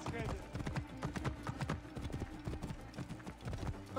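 Pegasus, a horse in the video game Assassin's Creed Origins, clip-clops along with a steady, brisk rhythm of hoof strikes close by, continuing throughout beneath quiet game ambience.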